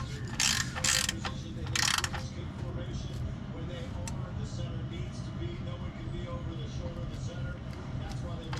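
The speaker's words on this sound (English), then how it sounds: "Love this flex head wrench." A flex head ratchet wrench tightens the oil drain plug, with a fresh crush washer, on a 2017 Toyota Highlander, giving a few quick bursts of close ratchet clicking over a low background rumble.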